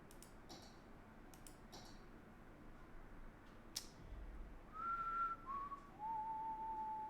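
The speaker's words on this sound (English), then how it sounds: "I don't know why I whistled that." A person whistles a short tune in a few clear, sustained notes, each gliding slightly lower, after scattered faint clicks and taps in a quiet room.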